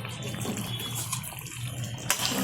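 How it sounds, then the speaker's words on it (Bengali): Mutton vindaloo gravy poured slowly into a wok, a steady wet liquid pour with a soft continuous gush throughout, close and moderately loud. "তো আমি আস্তে করে ঢেলে দিচ্ছি কড়াইতে।"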